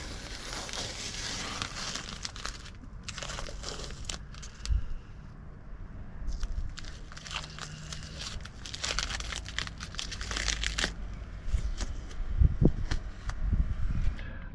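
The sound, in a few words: peeling masking tape off a VW T4 body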